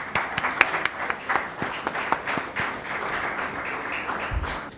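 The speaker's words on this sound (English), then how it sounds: "So please give round of applause to the chief guest of our event, Dr. Radhakrishna Pillai." An audience applauds to welcome a chief guest speaker at an event, starting with distinct individual claps that thicken into steady group clapping, with a brief low thump near the end.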